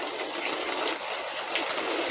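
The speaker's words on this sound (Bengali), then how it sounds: "এবার আমি এতে জল দেব।" Water pours steadily into chickpea curry in a pan, a continuous splashing gush that stays close and fairly loud for the whole stretch, with no voices over it.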